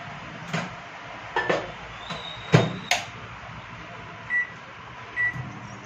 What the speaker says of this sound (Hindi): तो इसको गर्म कर लेती हूँ मैं माइक्रोवेव में।